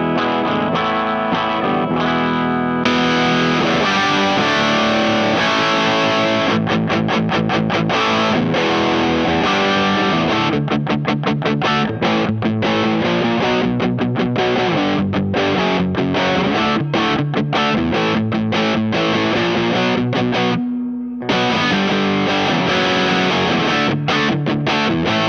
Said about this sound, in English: on the bridge pickup, which is a wide range style humbucker, it sounds like this